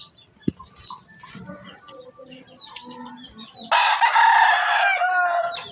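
Hen and rooster on a Filipino backyard farm, soft clucking and scattered calls at first, then a loud close crowing burst that carries through the second half.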